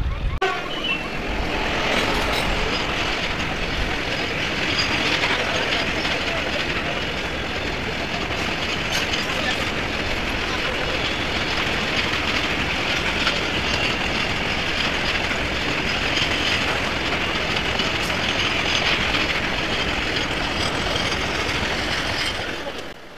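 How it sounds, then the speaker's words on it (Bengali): A train passes a railway level crossing on a road near Chougachha crossing, a steady loud rumble of rail wagons running throughout with a brief horn toot, alongside road traffic noise. "নিশ্চয়ই কোনো ট্রেন আসছে।"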